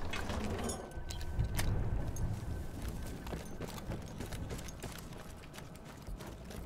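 A horse's hooves galloping in Battlefield 1, a rapid, continuous clip-clop drumming with mechanical rattles and low rumble mixed in, steady and fairly close with no talking.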